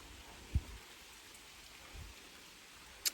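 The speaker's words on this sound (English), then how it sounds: "And now it's raining, so even the greenhouses will be fine." Rain falls on a home garden with greenhouses, a soft, even hiss of drops throughout, punctuated by a few brief, louder drips or taps.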